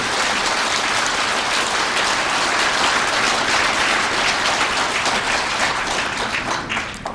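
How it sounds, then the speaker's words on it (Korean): A church congregation applauds the guest pastor in thanks, a full, sustained wash of many hands clapping at a steady level for several seconds before easing slightly at the end. "우리 강사 목사님을 위하여 우리 다시 한번 감사의 박수 부탁드립니다"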